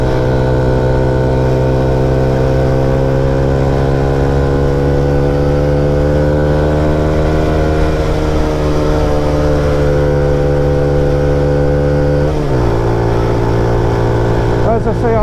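Honda CB125F motorcycle engine held at high revs, a steady harmonic drone that climbs slowly in pitch and then dips sharply near the end before picking up again.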